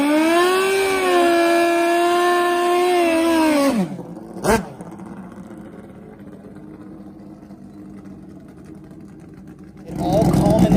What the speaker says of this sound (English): Nitrous Oxide 460 motorcycle drag bikes here on CycleDrag.com Facebook and the Cycle Drag YouTube channel.